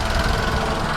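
A 2017 Renault Clio engine idles steadily close by, a continuous low rumble with a faint knocking texture and no talk over it.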